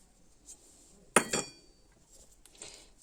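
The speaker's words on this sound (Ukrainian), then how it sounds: "Гарно розколочуємо" Pumpkin cake batter being whisked in a bowl, with a couple of sharp metallic clinks of the whisk against the bowl close up, then quieter stirring scrapes.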